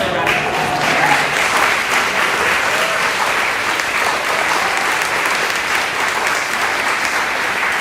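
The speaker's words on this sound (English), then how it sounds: "So let's give her a round of applause." Loud, sustained applause from a large audience at a Black History diversity program, a dense steady clatter of clapping hands filling the whole stretch without letup.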